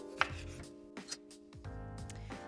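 A knife slicing a tomato on a board for a caprese sandwich, several quiet, separate cuts with soft taps, set against a faint steady hum.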